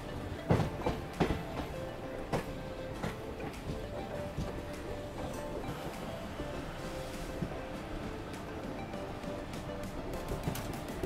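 The Himsagar Express pulls out of Katpadi in India with a steady, continuous rumble and a rhythmic clickety-clack of wheels over rail joints, heard from aboard the train.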